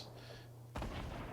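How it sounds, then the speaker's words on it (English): A grenade blast in the Fortnite Season Zero battle royale lands as one sudden loud burst, preceded by quieter game ambience, with someone talking over it. "Oh, someone's shooting grenades."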